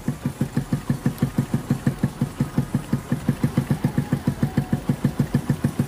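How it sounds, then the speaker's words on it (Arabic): A small motorcycle engine, 50 to 125cc, idles steadily after a carburetor adjustment, with an even, rapid, loud putter that holds a regular rhythm throughout with no one talking. "تيتستابيليزا الموتور."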